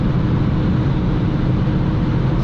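A Porsche and a Lamborghini run at high speed on the Autobahn, heard as a loud, unbroken, dense roar of engine and rushing road noise with no pauses.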